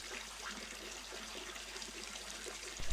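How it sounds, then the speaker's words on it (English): Water flows and trickles steadily in a rainforest setting, a soft continuous wash with low hum underneath and no voices. "Allow the sound of the water to take away your thoughts."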